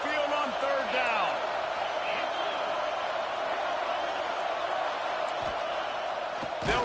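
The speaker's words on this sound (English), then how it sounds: "The Tide crowd rolling noise down onto Saban Field on third down." Alabama Crimson Tide football crowd roaring steadily through a third-down play at Saban Field, a loud, continuous stadium wash of cheering with scattered whoops and shouts, and a few thumps near the end.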